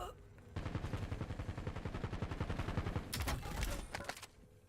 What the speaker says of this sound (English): Someone's shooting at us from somewhere.